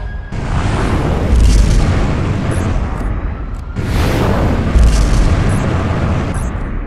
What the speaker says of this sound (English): Let's try routing energy to subsystems, Jarvis. We'll start with the repulsor jets.